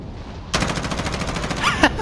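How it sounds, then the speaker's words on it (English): Rapid automatic gunfire in Call of Duty Warzone erupts suddenly after a quiet start, a fast burst of close, loud shots continuing for well over a second with a sharper crack near the end. "They're shooting each other."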